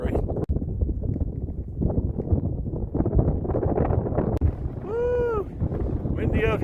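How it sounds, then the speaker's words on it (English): Gusting wind buffets the microphone high on a mountain pass during a wilderness loop hike, a steady loud roar with brief sharp knocks, while a faint whistling tone rises near the end. "Windy up here."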